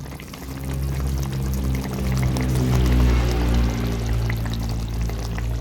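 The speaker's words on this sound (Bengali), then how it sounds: "সামান্য একটু জল দিয়ে দিচ্ছি যাতে মশলাটা পুড়ে না যায়।" A little water is poured into spice paste frying in a pan for a Bengali fish curry, a steady, close, loud rushing pour with hissing sizzle that holds evenly for several seconds.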